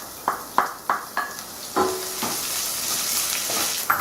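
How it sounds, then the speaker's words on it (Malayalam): Prawns frying in one pan while onions fry in another, a steady sizzle punctuated by a quick series of sharp utensil taps and clinks, heard nearby with no talking. "വേറൊരു പാനിൽ ഞാൻ ചെമ്മീൻ ഫ്രൈ ചെയ്യാൻ ഇട്ടിരിക്കുവാണ്"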